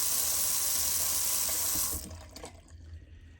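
Tap water runs steadily into a sink to dampen an alum stick during a wet shave, a broad close hiss for about two seconds before the flow is shut off, leaving faint drips and handling noises.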